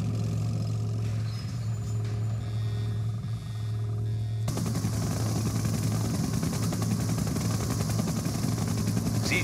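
Siege chopper helicopter from the Red Alert 2 video game, a steady loud rotor and engine drone that continues unbroken, shifting to a broader, rougher roar partway through.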